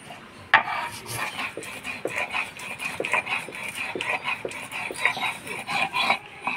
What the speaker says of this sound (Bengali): তো ঝিঙ্গা পোস্তের জন্য আমি পোস্তটা আগে বাইটে নিব।